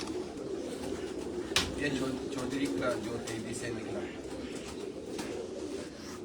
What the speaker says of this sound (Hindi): ये भी सलारा कबूतर है।